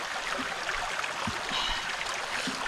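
A creek in Katong flows past with a soft, continuous wash of running water and faint gurgles, heard from close by with no voices.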